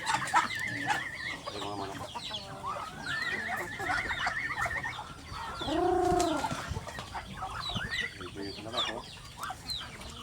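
Chickens clucking and chattering all around, with a louder drawn-out call midway and a dense flock murmur in the background.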